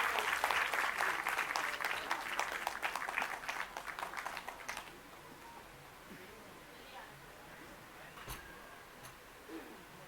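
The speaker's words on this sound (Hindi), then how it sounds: "जोरदार तालियों के साथ स्वागत करें" An audience at an evening music concert gives loud, dense applause to welcome guests on stage. The clapping fades out about halfway through, leaving quiet room tone with a few isolated claps.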